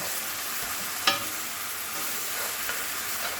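Flour cooks and gets stirred in a hot pot, giving a steady close sizzle with a sharp scrape or clack of the utensil partway through and a fainter one later; no talking.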